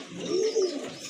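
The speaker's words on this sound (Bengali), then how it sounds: "আরেক জোড়া কবুতর, অনেক বড় সাইজের এক জোড়া রেড চেকার কবুতর।" A pair of large red checker pigeons coo in two close, low, rolling pulses, near and clear with no voices over them.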